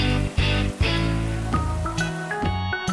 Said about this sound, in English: Despite the rain outside,